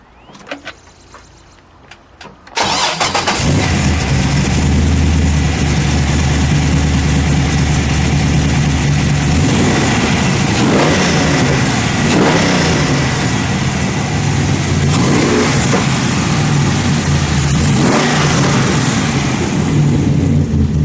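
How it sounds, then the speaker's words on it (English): After a few quiet seconds a 1970 Buick Skylark's 427 engine starts and runs loud and rumbling, idling steadily with several swells where it revs higher. "Let's fire it up. We'll let it idle, and then we'll give it a good rev."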